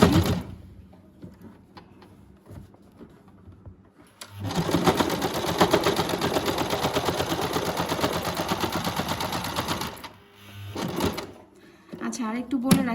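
A Singer SM024 sewing machine stitches thick denim jeans in a fast, steady mechanical rattle for about six seconds, with brief bursts of stitching and someone talking before and after.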